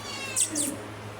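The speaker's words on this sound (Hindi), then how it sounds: "ना ये हमसायों की बिल्ली आई है," A cat gives two short, high meows close by against a quiet background hum.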